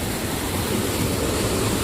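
Strong mountain water rushes and roars at close range near Sahastradhara in Uttarakhand, a loud, dense, unbroken torrent with no talk.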